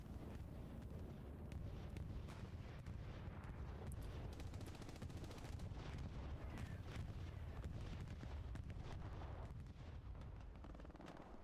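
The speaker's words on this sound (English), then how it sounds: "Here comes bombing run." Bombing run explosions rumble across a Hell Let Loose battlefield in a field of corn, with a dense, low, continuous thunder of blasts and scattered sharper cracks that sound distant and fairly faint.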